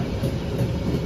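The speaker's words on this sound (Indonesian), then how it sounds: "kita berpapasan kereta Gumarang dari Pasar Senen ke Surabaya Pasar Turi." A Gumarang passenger train passes close by on the Pantura line, its steady loud rumble and rolling rail noise filling the short clip without any talk.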